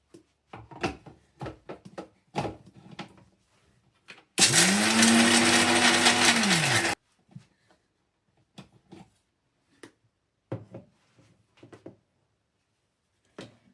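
Mixer grinder whirring loudly for a few seconds as it grinds chutney ingredients before coconut goes in, a continuous motor roar with pitch sliding up then down, framed by scattered clatter and knocks before and after.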